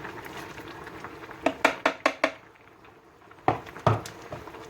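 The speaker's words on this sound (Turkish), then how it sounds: "gördüğünüz gibi kaynamaya başladı" A pot of sour purslane stew with chickpeas and bulgur comes to the boil, giving soft bubbling broken by a series of distinct pops and plops close by.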